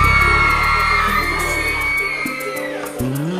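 Women in a concert audience shout and whoop together, a loud sustained crowd cry that swells at the start and then fades, with music and a pitched melodic line running underneath.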